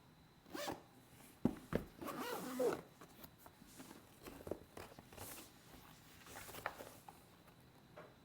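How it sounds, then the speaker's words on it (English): A zipper on a GoPro Hero 12 carrying case is pulled open in several short rasping strokes, close and fairly quiet, with light handling rustles around it. "The zipper."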